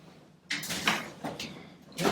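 A home door, likely a fridge or cupboard, opens in a kitchen: a soft whoosh and rustle in several short bursts, close to the microphone, with faint room noise between.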